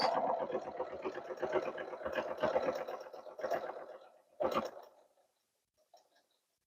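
Sewing machine stitching along the inside edge of a quilted pot holder, a close, steady run of rapid stitches that stops briefly, resumes for a short burst, then falls silent.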